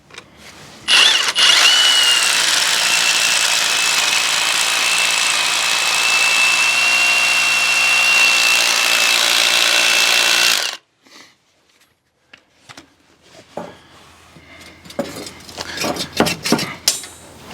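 Bauer 20V brushless SDS rotary hammer boring a 1/2 inch hole, a loud steady close buzzing hammer for about ten seconds that cuts off abruptly, followed by quieter clattering and handling noises.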